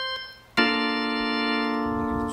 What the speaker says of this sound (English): When you pull it all out, it's real brassy.